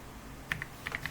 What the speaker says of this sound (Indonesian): di PowerShell kita disuruh mengetik